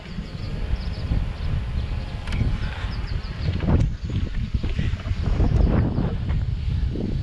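Strong wind off Lake Michigan buffets the microphone in a constant low roar as a storm approaches, gusting unevenly throughout, loud and close, with no voices.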